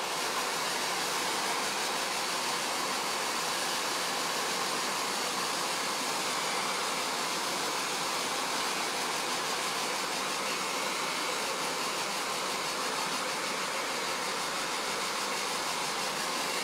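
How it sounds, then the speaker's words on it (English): Hair dryer drying chalk paste on a door knocker decoration, a continuous loud close whoosh of blown air that holds steady throughout with no talk. "I really hate like having to use the dryer as well when I'm on lives"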